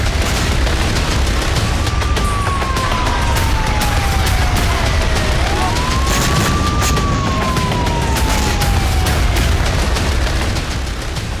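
Drone attack in Kyiv: a continuous dense wall of loud rumbling blasts and crackling bursts, with a siren-like whine slowly rising and falling across the whole stretch.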